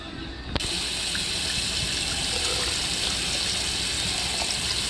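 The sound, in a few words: hot tap water poured into a cup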